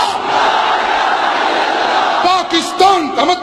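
A large crowd of young people standing in Aiwan-e-Iqbal hall roars back a chanted answer to a political slogan at a religious gathering in Pakistan: a loud, sustained mass shout, followed by someone speaker's amplified voice.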